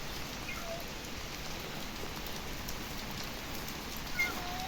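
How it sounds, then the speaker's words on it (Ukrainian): Rain falls in a steady, soft hiss on a garden and rooftop, with faint drops pattering throughout and no voices. "Ховайся, дощ іде, дивися."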